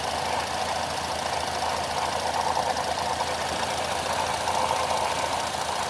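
A Cadillac SRX4 with hesitation and power loss idles in a steady, even drone with no revving, heard close up with no voices.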